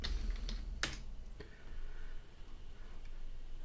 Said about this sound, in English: just type in Shortcodes